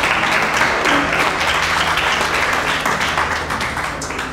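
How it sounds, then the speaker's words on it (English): Audience at a Caribbean unity festival and art showcase at Miami Dade College applauds a professor. Dense, continuous clapping fills the room, loud and steady before it slowly fades. "let's give him a round of applause"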